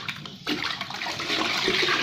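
AB Mix nutrient solution is stirred into water, producing a continuous close sloshing, swirling rush of liquid that starts abruptly and fills the short moment.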